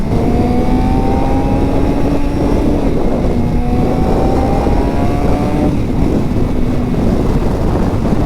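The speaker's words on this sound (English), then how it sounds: "Listen to that engine," A 2023 Suzuki GSX-R600 sport bike engine droning at steady speed on a ride, its tone rising and falling slightly under loud, constant wind rush.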